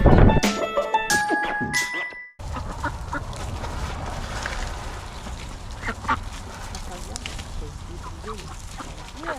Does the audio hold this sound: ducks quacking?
yes